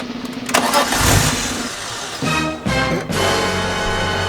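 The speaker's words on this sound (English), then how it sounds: "let's start it up right now" A BMW E46 M3 fitted with a full carbon fiber intake cranks and fires up loudly, settles briefly, then catches again and holds a steady, rumbling idle up close.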